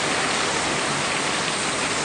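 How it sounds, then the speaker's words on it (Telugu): Heavy rain pours down in a dense, steady roar of hiss, loud and close without pause, with no voices over it. "ఎంత పెద్ద వర్షం చూడండి చాలా పెద్ద వర్షం ఇది"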